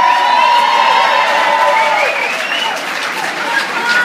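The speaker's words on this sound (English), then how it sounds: "Big cheer for Loz!" Loud applause, cheering and whoops from a crowd for Loz as she has her head shaved for charity, sustained close clapping with high excited voices over it.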